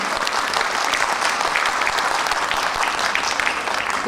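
A concert audience applauds in a sustained, dense burst of clapping at an anniversary concert honouring Garegin Nzhdeh, loud and steady throughout with no voices over it.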